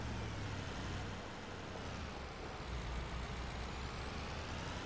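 Truck pulling out in Farming Simulator 25, a steady broadband engine and road rumble that holds at an even level throughout with no clear change in pitch.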